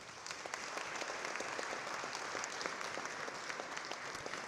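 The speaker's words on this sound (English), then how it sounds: "Family and friends, give them a round of applause." An audience of family and friends applauds new medical graduates at a ceremony, a continuous patter of many hands that sounds distant and fairly soft, holding steady throughout.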